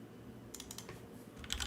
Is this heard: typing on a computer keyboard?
yes